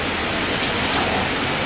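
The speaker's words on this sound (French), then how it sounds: "Je crois que la pluie m'a envoûtée." Steady, dense rain falls continuously, a loud even hiss with no breaks and no voices over it.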